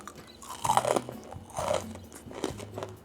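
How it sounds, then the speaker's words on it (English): Crunchy vegan, gluten-free protein granola is bitten and chewed up close, with three loud crisp crunches spaced about a second apart in a quiet room. "It is time for what you have all been waiting for. The crunch test."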